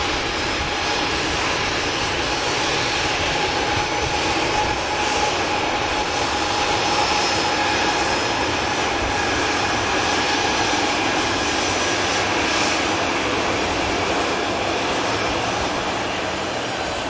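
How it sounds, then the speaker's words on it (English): A SunExpress Boeing 737 jet landing, its engines roaring loud and steady with a broad rushing noise that holds for the whole stretch, no voices over it. "Making a lot of noise, the Sun Express 737."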